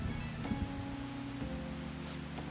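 Steady rain falling in the video game Persona 5 Royal, a continuous soft wash of drops heard alone alongside low game music tones.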